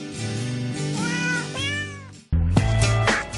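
Cats meow in sequence to a Christmas carol melody, a run of drawn-out pitched mews followed after a short gap by a louder, brighter burst of meowing over musical backing.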